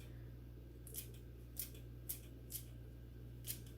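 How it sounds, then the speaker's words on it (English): Five quick, light scissor snips cutting mint leaves at uneven intervals, soft and close, over a low constant hum. "very thinly cut them with my scissors."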